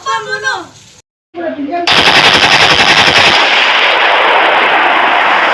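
Gunfire sound effect in a school drama performance: a voice speaks briefly, then a loud, sustained burst of rapid machine-gun fire fills the rest of the moment without pause.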